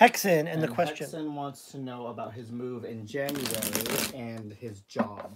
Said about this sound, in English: Got a good shuffle here, and we'll cut these.